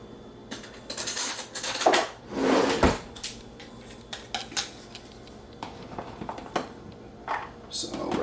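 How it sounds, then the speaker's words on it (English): Walnuts being scooped from a container into a NutriBullet cup, with clattering, rattling knocks of nuts and dish sounds in uneven bursts, close and moderately loud, someone talking now and then. "taking at least 2 cups of the walnuts and scooping them in"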